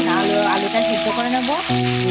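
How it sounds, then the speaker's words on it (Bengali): Rohu fish steaks rubbed with salt and turmeric fry in hot oil in a wok, giving a steady, close sizzle that continues without a break through the short clip. "কড়াইতে তেল দিয়ে মাছটা ভাজি বসে দিয়েছি নুন হলুদ মাখিয়ে"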